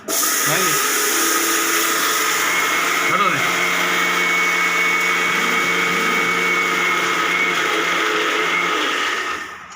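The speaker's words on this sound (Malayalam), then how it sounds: "ഇപ്പോൾ നമ്മൾ അരി വറുത്ത് മിക്സിയിൽ അടിക്കാൻ പോകണം കേട്ടോ." A mixer grinder whirs loudly and steadily as it grinds roasted rice, the motor drone holding constant for nearly ten seconds before winding down at the end.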